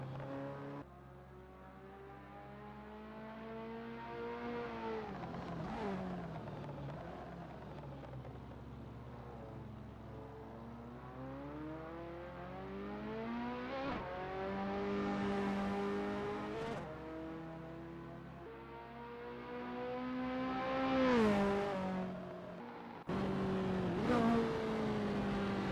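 Ferrari F40 race cars warming up at Sonoma Raceway's long circuit in a racing game, several engines revving and droning steadily with rising and falling pitch sweeps as cars accelerate past, loud and continuous with no talking.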